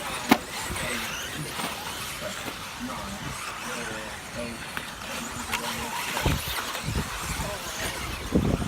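4WD radio-controlled model cars race around a track, a thin high whine of small motors and tyre scrabble with sharp impacts, under continuous excited commentary.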